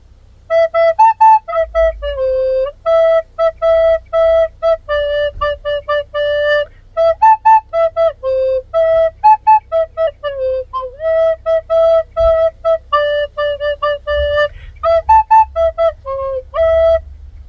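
A recorder plays a song alone, short breathy notes in a bouncy repeating rhythm, clear and close for the whole stretch.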